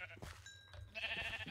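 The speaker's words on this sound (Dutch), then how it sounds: "Daarachter staan veel schapen." Sheep bleat in a video game, a few nasal calls overlapping with busy game sounds and a steady background hum, moderately loud and close.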